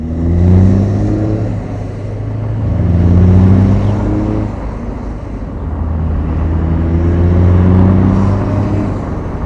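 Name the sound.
Cummins-engined semi truck accelerating through gears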